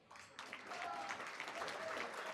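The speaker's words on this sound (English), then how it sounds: "Give them a round of applause." An awards event audience applauds sponsors, a crowd's clapping rising after a short quieter start and continuing as a dense, even patter across the room.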